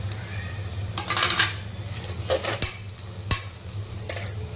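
Ginger garlic paste sizzles among browned onions in a pan while a spoon stirs, scraping and clinking against the metal. The sizzle stays quiet, and a few sharp knocks stand out.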